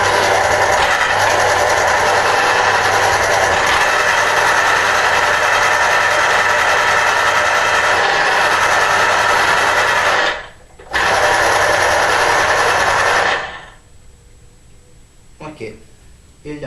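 Electric juicer motor whirring loudly and steadily while juicing fresh oranges, running without a break for about ten seconds, cutting out briefly, then resuming before stopping, leaving quiet room sounds.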